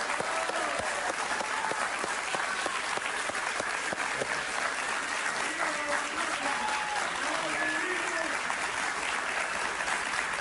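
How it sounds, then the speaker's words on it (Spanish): An audience at a Venezuelan political gathering applauds a prominent opposition leader, a sustained dense wall of clapping with crowd murmur and a voice speaking beneath it. "Un aplauso para él,"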